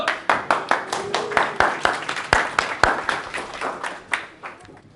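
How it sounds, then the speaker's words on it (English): Conference audience applauding a speaker at a technology event, brisk and fairly close, with sharp individual claps on top of a dense patter that gradually thins and fades out. "Round of applause."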